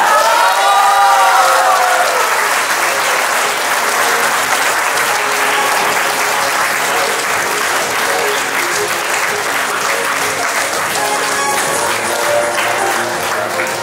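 A crowd at the Cake Art Bulgaria Awards 2023 ceremony bursts into loud, sustained applause with some cheering, holding steady for over ten seconds as a winner is honored.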